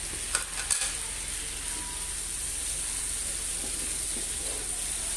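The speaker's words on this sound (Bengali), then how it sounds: "তো এখন আমি ইলিশ মাছের মাথাগুলা দিয়ে দিচ্ছি।" Hilsa fish heads frying in a spice paste give off a steady, close sizzling hiss with a few soft stirring clatters near the start and no talking.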